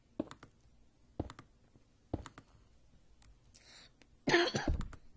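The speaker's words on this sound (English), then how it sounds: "This cough is still bugging me." Three short, fairly faint coughs spaced about a second apart, followed by a louder burst of noise toward the end, during a Minecraft-style building session.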